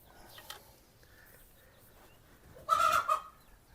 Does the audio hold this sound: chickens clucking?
yes